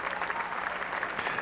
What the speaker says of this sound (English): Tremendous ovation for Davis Love III and Greg Norman